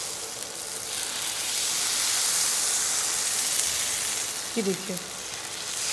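Sama rice crepe batter sizzling as it is poured into hot ghee for a Navratri fasting dish, a steady bright hiss that swells and holds, with a brief spoken remark near the end.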